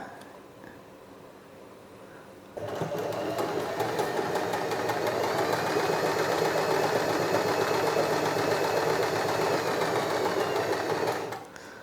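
A Usha Janome Allure DLX sewing machine stitches a buttonhole, starting after a quiet pause and then running steadily with a fast, even mechanical whir for several seconds before stopping abruptly. It is close and moderately loud.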